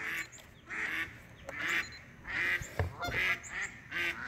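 A flock of geese honking outdoors, a rapid run of overlapping honks and calls heard at a moderate distance, fairly faint against background noise.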